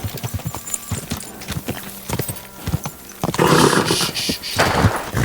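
Horse hooves clip-clopping at a gallop in the medieval video game Kingdom Come Deliverance 2, a steady rapid rhythm of close hoofbeats that grows louder and busier toward the end, with a brief whinny-like sound.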